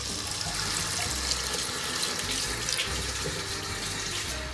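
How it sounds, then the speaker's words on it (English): Two to three cups of water run steadily into a pan of frying food, a continuous close splashing rush with no talking. "then add around 2 to 3 cups of water"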